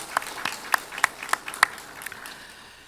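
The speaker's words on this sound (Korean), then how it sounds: "우리 다시 한번 하나님께 영광의 박수 올리겠습니다." A church congregation at Ulsan Sujeong Church gives a short round of applause during Sunday morning worship, sounding as a handful of sharp, evenly spaced claps that spread out and fade away over a few seconds.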